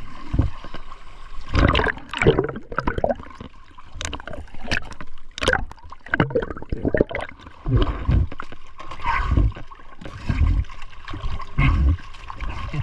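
Strong sea current surges around an island reef, heard as choppy sloshing, gurgling and splashing water close by that swells and falls unevenly, with no voices.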